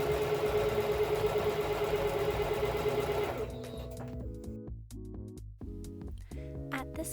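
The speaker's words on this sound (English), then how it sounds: "I can now hem the bottom of my skirt." Sewing machine hemming the bottom of a pleated skirt: a steady, close mechanical whir for about three seconds, then a series of short start-stop stitching bursts.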